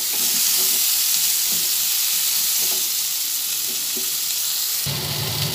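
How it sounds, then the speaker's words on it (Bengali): Pointed gourd (potol) sizzles steadily in hot oil in a pan after turmeric and salt go in, with a constant broadband crackle and a few soft stirring clunks before a brief shift near the end. "এরপরে পটলটা ভেজে নিচ্ছি। পটলটা একটু লাল লাল করেই ভাজবো।"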